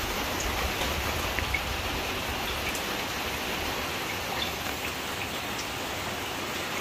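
Steady rain falls outdoors in an even, dense hiss of drops that holds without a break, fairly loud and close, with nothing else standing out.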